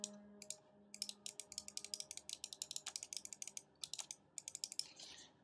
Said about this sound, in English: Now we have the Kinzu, which is slightly hard to click.